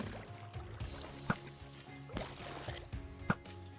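Steady rushing and splashing of a waterfall in a Minecraft-style video game, continuous and fairly soft, with a few louder splashy pops scattered through.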